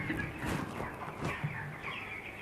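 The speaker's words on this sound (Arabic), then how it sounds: "تعالوا دلوقتي نشوفوا مع بعضينا الفراخ. وبعد زي ما حضراتكم شايفين كده الفراخ النهارده عمر 20 يوم." Twenty-day-old broiler chickens in a poultry house keep up a steady, dense clucking and chattering from the flock, close by and continuous, with no talk over it.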